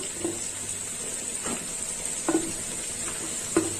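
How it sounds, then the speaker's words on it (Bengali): Chopped eggplant added to a pan of frying potatoes for a spiced Bengali vegetarian curry, with a soft steady sizzle and a few sharp stirring scrapes near at hand. "এবার দিয়ে দেব কেটে রাখা বেগুন দিয়ে দিলাম বেগুন"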